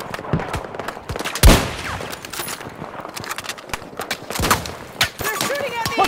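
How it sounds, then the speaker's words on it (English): Battlefield 2042 gunfire: rapid bursts of automatic weapons crackle and pop throughout, with one loud close shot early on and steady shooting underneath game radio chatter. "They're shooting at me!"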